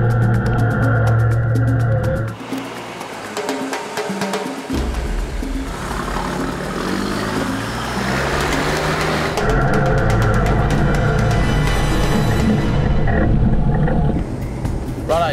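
A 4WD vehicle grinds up slippery clay-covered rocks on a bush track, its engine rumbling and surging loudly and continuously with strained revving, a brief lull near the start, and voices talking in places.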